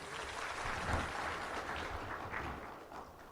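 An audience at an Africa trade and investment summit applauds steadily for a few seconds, a dense, even patter of many hands clapping, somewhat distant and moderately quiet.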